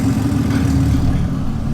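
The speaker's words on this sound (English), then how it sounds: "Car sounds angry." A BMW M240i engine running, a loud, close, deep rumble that holds steady and eases off slightly toward the end, with no voices over it.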